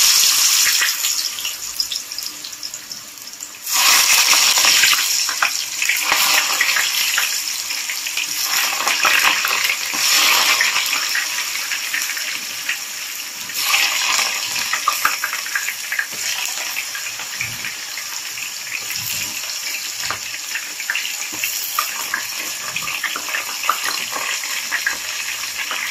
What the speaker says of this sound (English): Now I put the oil on the fire. When it became hot, I put the chips one after one.